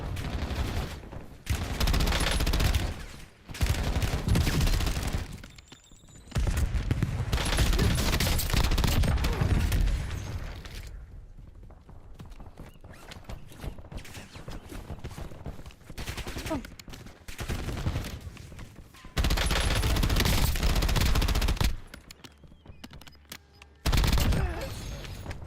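Bursts of gunfire in a video game, heavy close volleys and rattling fusillades coming in waves with quieter stretches between, loud and dense across the whole stretch.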